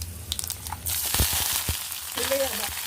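Curry leaves hit hot oil for an egg and broad bean curry, setting off a sudden loud crackling sizzle that keeps spitting and popping close by, preceded by a few quieter kitchen clinks.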